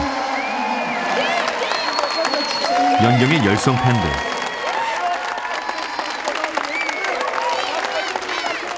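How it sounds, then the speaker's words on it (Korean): A volleyball arena crowd cheers and applauds as a star player takes the court, a loud, dense wash of clapping and shouting that swells around the middle, with a voice talking over it. "연경이 코트에 들어서자 관중들의 환호가 쏟아진다."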